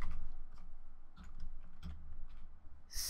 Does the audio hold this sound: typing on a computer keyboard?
yes